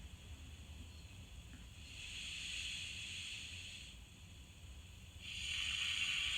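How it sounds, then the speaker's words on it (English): A sounding valve on an H0 scale F Class model locomotive gives off a thin, steady hiss in two stretches, the second louder and continuing to the end, over a faint motor hum. "Next up is the sounding valve,"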